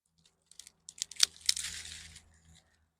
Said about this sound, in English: Cut off the stalk about 1 inch where the stem comes in.